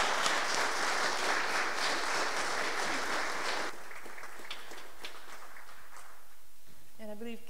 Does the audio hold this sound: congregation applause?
yes